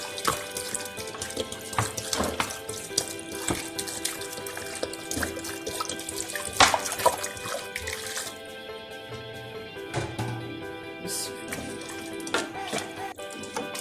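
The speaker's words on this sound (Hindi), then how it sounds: "पानी डाल रही हूँ हाफ लीटर।" Half a litre of water pours steadily into a pot, a continuous splashing gurgle with scattered clinks and background hum throughout.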